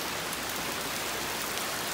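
Heavy rain pouring down on a vegetable garden with cucumbers, pole beans and tomatoes, a steady, dense hiss of drops close by, with no talking.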